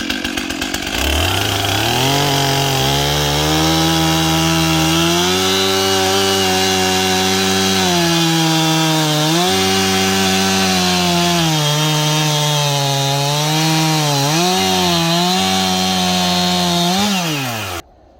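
A Stihl MS291 chainsaw fitted with an 8TEN bar and chain runs loud and near, cutting lumber in one long snarling pass as the engine pitch dips and rises under load before cutting off.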